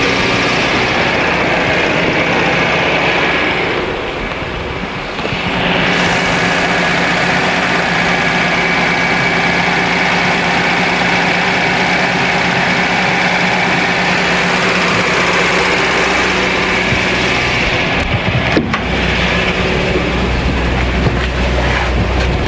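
A Renault 9 car engine runs steadily at a loud, constant level, a broad continuous hum with a brief dip early on and a short disturbance near the end, heard close with no talking.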